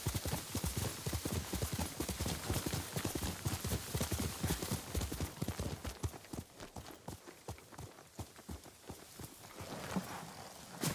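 Horse hooves clip-clop steadily in a video game as an armored horse walks, a dense, even rhythm of close, loud hoofbeats throughout, thinning slightly toward the end.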